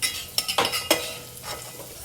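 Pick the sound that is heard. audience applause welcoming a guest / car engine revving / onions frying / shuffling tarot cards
onions frying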